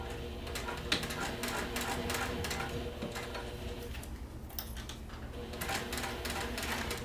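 A sewing machine stitches binding onto a fabric project at slow speed, a steady soft mechanical chatter that pauses briefly and then resumes against quiet room noise.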